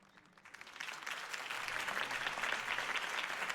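Video game crowd applause swells from faint to a steady, dense clatter of many hands, heard at a moderate distance.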